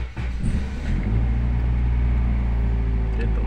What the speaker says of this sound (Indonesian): Oke, mesin sudah hidup.